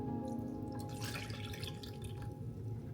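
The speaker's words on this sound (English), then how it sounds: "And then you want to add 4 cups of water." Water poured into a pot for dandelion syrup, a steady trickling and splashing stream heard close over a constant low hum, with no talk.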